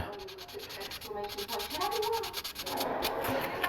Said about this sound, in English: I'm going to take my ultra fine sanding sponge, and I'm just going to scuff that up